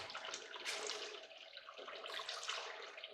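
Water streams steadily and close over a gold screening setup, a continuous splashing rush with no talking.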